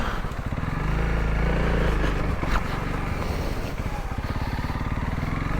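A dual sport motorcycle rides a dirt road through the woods, its engine droning loudly and steadily close to the mic with a throbbing low rumble that rises slightly and then settles for the whole stretch.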